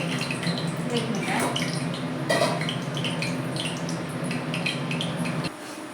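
Water splashes and pours steadily into a sink, with faint clinks of dishes now and then, close by and continuous.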